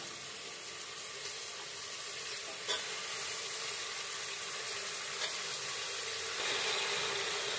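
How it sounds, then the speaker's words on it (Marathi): Vegetables sizzle and fry in a pressure cooker for masala rice, a steady loud hiss throughout with occasional stirring scrapes, close and continuous without talk. "सगळ्या भाज्या टाकल्यानंतर छान त्या फ्राय करून घ्यायच्या आहेत."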